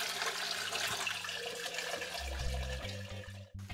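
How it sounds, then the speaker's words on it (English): Hot water pours steadily into a container to dissolve baking soda for a homemade hydrogen generator, a continuous close splashing rush that tapers off at the end. "I like to use some hot water just because it dissolves the... baking soda a little faster."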